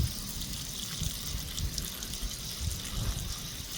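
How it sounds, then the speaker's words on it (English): Water leaks from the relief valve of an outdoor water hydrant that has been damaged, a steady, soft hissing trickle that runs without a break, with no voices. "There she leaks. Look at the little leak."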